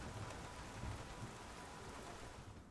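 Steady rain patter in the F1 2019 racing game at the Monaco circuit during wet qualifying, a dense continuous hiss with no voices over it.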